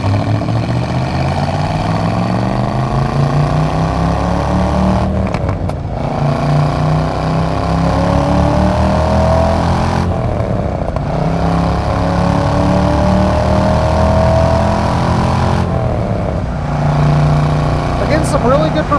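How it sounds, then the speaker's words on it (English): 1969 Chevrolet Corvette with a numbers-matching L46 350 small block and four-speed manual pulls through the gears from inside the car, its loud engine note climbing and dropping at each shift. Someone talks over it throughout. "Some really good performance from that small block. That numbers matching motor runs really well."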